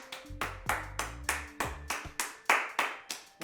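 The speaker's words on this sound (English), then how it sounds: "Why isn't anyone else clapping?" Hand clapping at the wrap of a day's production on a short horror film, about ten sharp, evenly spaced claps from one person, close and loud, with a low hum underneath.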